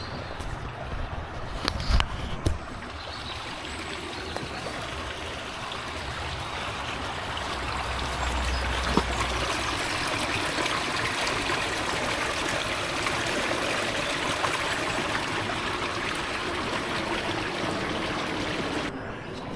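Brook water flows steadily out of a small road culvert, a continuous close rushing wash with a few brief knocks near the start.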